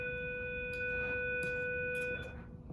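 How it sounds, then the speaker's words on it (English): A steady electronic school bell signalling class change rings continuously, sustained and bright, then cuts off, with faint background noise and chatter around it. "the lovely bell that tells us to change classes"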